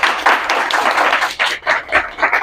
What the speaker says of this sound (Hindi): एक बार इसलिए ताली हो सकती है,